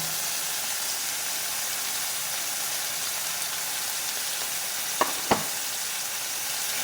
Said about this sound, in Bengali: একটু কষাবো, কষানো হোক।